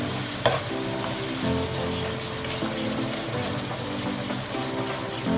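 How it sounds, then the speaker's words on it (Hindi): Red chili, ground coriander, garam masala, turmeric and salt roasting in hot oil in a pan: a steady sizzle and fry with light stirring scrapes, close and continuous. "ये इसमें लाल मिर्च है, पिसा धनिया है, ये गरम मसाला है, हल्दी है और नमक है। इसके साथ हम मसाले को भूनेंगे।"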